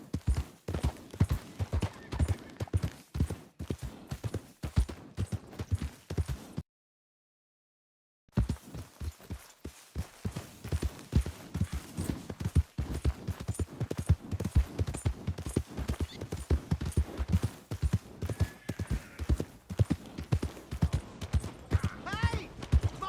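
Horse hooves clip-clop steadily on the ground in the Red Dead Redemption 2 video game, a close, continuous rhythmic trot with a brief silent gap, while voices talk intermittently over it.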